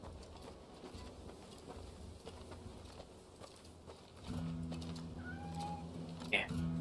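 A cat meows in the Rise of the Ronin video game, a short faint call near the end over a steady game ambience with a low droning hum.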